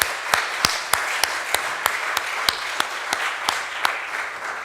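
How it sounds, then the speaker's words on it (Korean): A church congregation at a Sunday worship service claps together, a fairly sparse, steady applause with distinct sharp claps ringing through the room, no talking over it. "박수하겠습니다"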